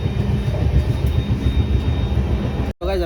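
Train rumbling along the rails as it comes into Tappari railway station on a foggy day, a steady loud low rattle that cuts off abruptly near the end.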